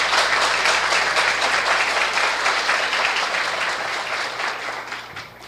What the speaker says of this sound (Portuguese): Uma salva de palmas para São Francisco,